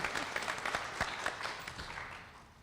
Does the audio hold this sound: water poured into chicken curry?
no